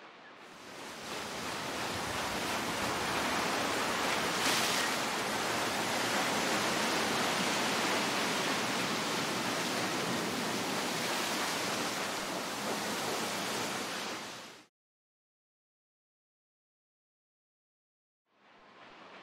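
Seashore ambience from a CryEngine island game scene: a steady, broad wash of ocean waves and surf roaring continuously for about fifteen seconds, then cutting off abruptly to silence before the surf fades back in.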